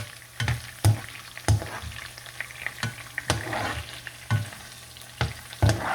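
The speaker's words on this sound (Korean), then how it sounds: "물에 튀기니까 아, 튀김이 아주 바삭해졌네." Steady oil sizzle of squid deep-frying, punctuated by repeated sharp clinks and scrapes every half second or so, close up with no talk.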